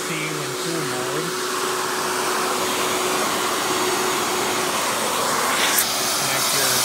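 A Royal Classic Power Team 4650 canister vacuum (Power Tank) runs continuously in tool mode, a loud, steady broadband whoosh with a constant motor whine and no pauses.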